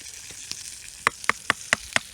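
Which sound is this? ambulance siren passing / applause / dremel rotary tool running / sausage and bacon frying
sausage and bacon frying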